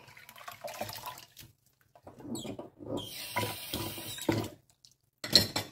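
Water splashes and dishes clatter in a sink, with bursts of running water and light clinks near the end.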